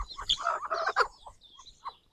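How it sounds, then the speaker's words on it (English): Pet ducks squabble outdoors in a burst of overlapping quacks and chattering calls, busiest in the first second and then tapering into scattered, fainter calls, with no talking. "That's my ducks talking."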